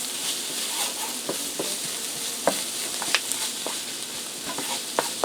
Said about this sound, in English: Now I'm going to give that a stir to get everything all incorporated